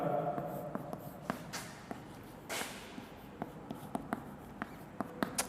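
Chalk or marker strokes on a board during a physics lesson, a series of short scratchy taps and squeaks in irregular rhythm, close and fairly quiet, with one longer swipe midway.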